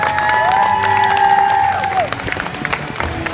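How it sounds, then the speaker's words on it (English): A live stunt-show crowd at Universal Studios cheers and claps loudly, with a whoop and shouts rising over the applause before it thins toward the end. "Give him another round of applause,"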